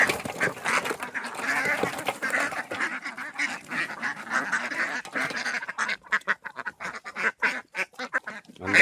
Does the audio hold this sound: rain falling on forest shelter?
no